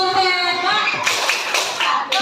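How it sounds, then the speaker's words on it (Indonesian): A classroom of children claps together in a group cheer. A voice is heard first, then a run of quick, rhythmic hand claps fills the rest of the moment. "Kita beri tepuk hebat untuk kita semua."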